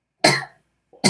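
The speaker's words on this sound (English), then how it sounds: "I don't know why I'm coughing" A person coughs once, sharply and close, with a trailing rasp, then a brief throat noise is followed by the start of another cough.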